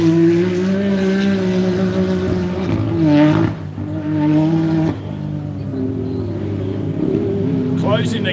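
A Yamaha side-by-side UTV and a turbo Can-Am racing close together, their engines roaring loudly and continuously with rising and falling revs, under excited commentary.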